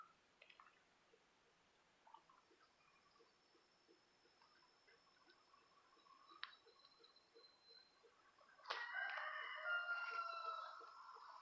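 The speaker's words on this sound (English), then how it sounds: "my neighbor's rooster" A neighbor's rooster crows somewhere off in the distance over quiet garden ambience with faint ticking, and then a louder, nearer burst of crowing comes near the end.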